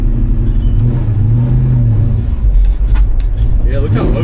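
A car engine drones loudly and up close, its pitch rising and falling as the throttle is worked while the clutch is let out, with a voice speaking over the running motor.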